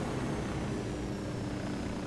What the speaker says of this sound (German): Da sind 4 Helikopter.